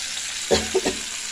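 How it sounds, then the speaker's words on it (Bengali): Onion frying in a pan alongside a fried fish head, giving a steady low sizzle with a few short louder spurts of stirring or added ingredients, heard alone. "তো মাছের মাথাটা ভেজে নিয়েছি, এখন পেঁয়াজ দেব"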